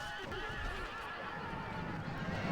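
Horses neigh and whinny amid a cavalry battle in a strategy video game, with hoof clatter and a dense mix of combat noise behind, continuous and moderately loud.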